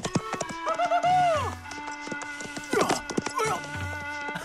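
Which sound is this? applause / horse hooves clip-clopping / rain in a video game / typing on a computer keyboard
horse hooves clip-clopping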